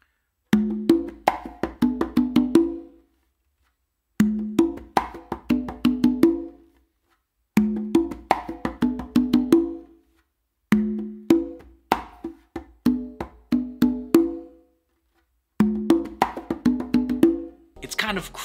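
A conga funk groove in repeated phrases, strong open tones mixed with soft ghost notes between them, played alone with short pauses between bars.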